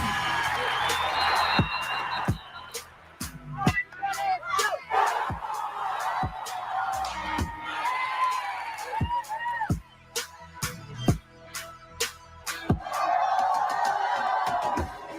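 A crowd whoops and cheers in bursts, with lively voices and chatter rising and falling and sharp peaks of shouting throughout.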